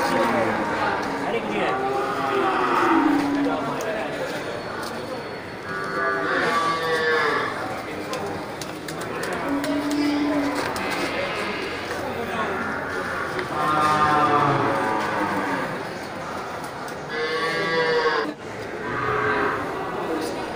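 Water buffalo, including cows, calves and a large bull, at a livestock market, heard as a steady crowd murmur with overlapping voices and occasional low lowing calls throughout.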